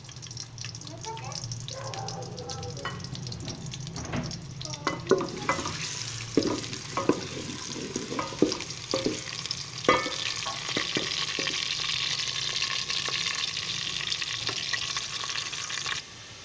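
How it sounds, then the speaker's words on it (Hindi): Onions fry in hot oil in a pan for an aloo baingan sabzi, giving a steady loud sizzle with repeated scraping knocks from stirring in the middle stretch. "इसमें अभी हम प्याज शामिल कर लेते हैं और प्याज को हल्का सुनहरा होने तक"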